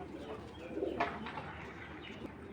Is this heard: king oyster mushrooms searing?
no